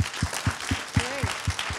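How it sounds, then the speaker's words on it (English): A small tech-chat audience at Cyberport in Hong Kong claps for a guest, a sparse, slow run of distinct single claps about four per second, with a brief tonal whistle in the middle. "Round of applause"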